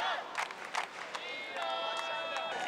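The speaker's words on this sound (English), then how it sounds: "the Iranian faithful cheering him on" Crowd of Iranian fans cheering and shouting for their wrestler at a Universiade bout, a noisy arena roar with whistles and calls rising and falling over a few seconds.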